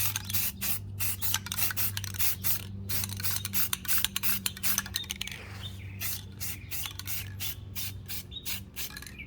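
Paint being sprayed as a first coat onto the main gusset of a Can-Am, in rapid repeated bursts of hissing spray over a steady low hum.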